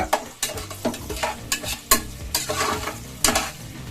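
Capsicum frying in oil in a pan for a peas rice dish, a continuous close sizzle broken by repeated rhythmic scrapes of a stirring spoon.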